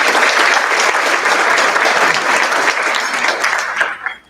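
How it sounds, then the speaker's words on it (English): Enthusiastic audience applause at an awards ceremony, dense and fairly loud clapping that holds steady for several seconds, then tapers off with a few last scattered claps. "let's give them a round of applause"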